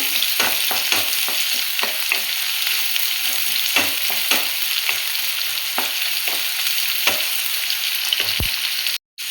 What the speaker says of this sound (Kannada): ಈರುಳ್ಳಿ ಬೇಯ್ತಾ ಇದೆ